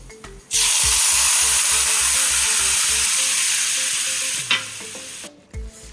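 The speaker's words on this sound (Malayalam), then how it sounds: "ഇതാ ഇത് നന്നായിട്ട് നല്ല തിളച്ച് വന്നിട്ടുണ്ട്" Bitter gourd pickle mixture with vinegar, made Kerala style, bubbles and sizzles steadily in a pan. The loud, continuous hiss runs close and alone for most of the stretch, with a few clinks of a utensil near the end.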